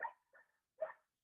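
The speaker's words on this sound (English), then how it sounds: "sorry about the dogs." Dogs barking in the background, three short muffled barks and yips spaced out over about a second, fairly faint and with no talk over them.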